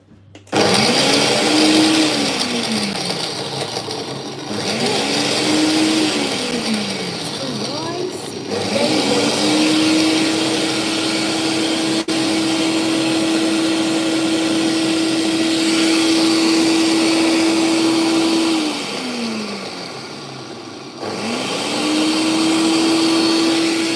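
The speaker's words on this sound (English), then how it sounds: "So it's gonna be on max blend." A blender running on its maximum setting grinds fish heads, a loud steady motor whine that surges and dips in pitch as the load shifts, with a few short pauses between bursts.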